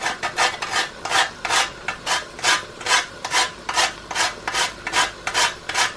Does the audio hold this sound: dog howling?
no